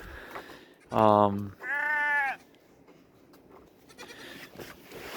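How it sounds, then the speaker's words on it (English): Bottle-fed goats on a farm bleat twice in close succession, the first cry short and loud, the second longer and wavering, set against quiet barn background. "So here's the bottle goats."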